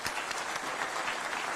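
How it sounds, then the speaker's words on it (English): Sustained applause from an audience at a Kenya-European Union business forum in Nairobi, dense clapping filling the room steadily without a break. "A round of applause for His Excellency."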